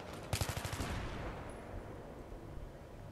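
Rapid burst of gunfire in Battlefield 3 as vans are shot up, about a dozen sharp reports in quick succession early on, then a loud rumbling wash of explosion and battle noise trailing off, no talk.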